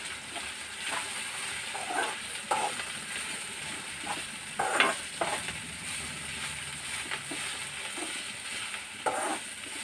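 Grated coconut stir-fries uncovered in a pan, a steady sizzling hiss broken by frequent scraping stirs of the spatula, fairly close and with no voices over it.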